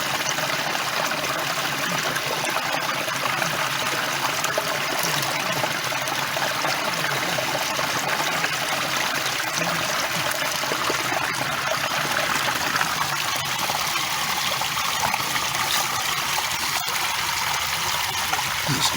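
Water runs steadily through a gold-panning sluice as it is cleaned out, a continuous close rushing and trickling flow with no pauses across the whole stretch.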